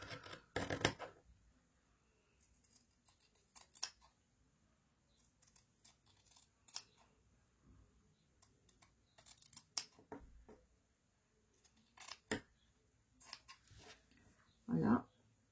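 Scissors snipping fabric for a small pouch, leaving half a centimetre: scattered soft crisp cuts and rustles over quiet room tone, with a louder handling burst near the end; someone talks at moments.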